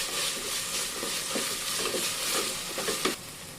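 Onion with ginger garlic paste and green chilli sautéing in a pan, a continuous close sizzle with soft stirring scrapes over it, no talk.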